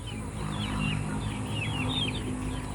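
Free-range native chickens clucking and calling in short repeated bursts over a low steady background hum on an organic farm.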